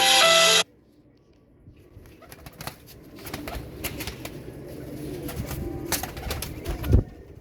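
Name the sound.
Teddy pigeons cooing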